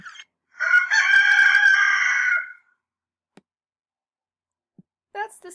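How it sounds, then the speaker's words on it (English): A rooster crows once, loud and close, a long drawn-out call with a rising start and a trailing finish, followed by a brief burst of clucking or speech-like sound. "That's the sound of a rooster."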